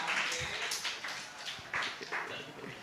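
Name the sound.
audience applause, standing ovation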